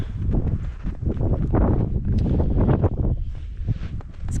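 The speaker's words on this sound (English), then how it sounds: "it's getting kind of windy already." Gusty wind buffeting the microphone outdoors ahead of a blizzard, a loud, rumbling, uneven roar that swells and eases continuously throughout with no voices.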